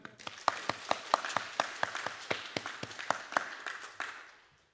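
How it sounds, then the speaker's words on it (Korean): A church congregation claps together in a brief round of applause, distinct hand claps in a quick rhythm that thin out and fade away toward the end. "박수 한번 칠까요?"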